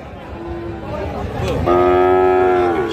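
A Sahiwal cow moos nearby at a livestock market in Raniganj, Dinajpur, first softly and then in a louder, drawn-out call, over a busy outdoor background.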